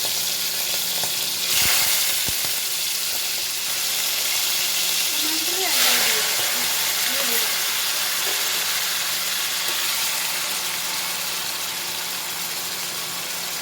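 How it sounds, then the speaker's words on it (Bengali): Shrimp sizzle loudly and continuously in hot mustard oil, close up, with a brief faint voice partway through. "তেলটা গরম হয়ে গেছে, এবার আমি মাছগুলো দিয়ে দিচ্ছি।"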